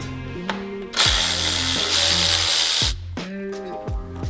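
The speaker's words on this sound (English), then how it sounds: "So we're gonna do these bolts down here to loosen up the fan" A ratchet loosens the radiator fan bolts on a Honda FL5, with short clicking bursts, a brief loud hiss-like stretch in the middle and more ratcheting after, all close and with no talk.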